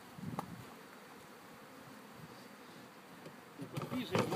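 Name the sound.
honey bees buzzing during package bee installation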